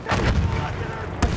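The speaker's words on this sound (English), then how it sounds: "Enemy machine gun." Enemy machine gun fire in the video game Battlefield 1 during a Rush match, loud dense rattling bursts with booming impacts filling the whole moment, and a sharp louder crack near the end.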